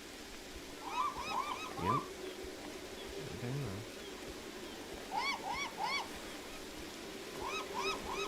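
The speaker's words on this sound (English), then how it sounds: "Loud audio coming from my right from birds" Birds in Beyond Eyes calling loudly near a pier, repeated bursts of honking, goose-like calls in clusters with surf-like wash beneath and brief speech between them.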